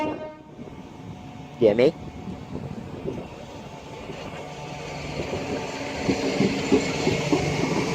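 A passenger train arrives at Faversham station on the main line, a brief two-tone horn blast sounding early over a low rumble of the moving train, with people talking nearby at a platform.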